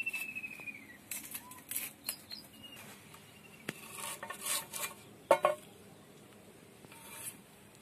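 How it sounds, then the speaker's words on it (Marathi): A kitchen knife cuts onion finely for Marathi kanda bhaji, giving scattered, fairly quiet knife taps and board clicks at irregular intervals over a low room hum. "तर हा कांदा एकदम बारीक कापून घ्यायचा आहे आपल्याला।"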